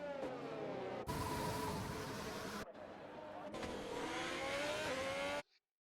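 Race cars lapping the Monaco street circuit in a racing video game, with a continuous engine drone and shifting pitch that cuts off briefly twice, played at a low level beneath a commentator speaking throughout.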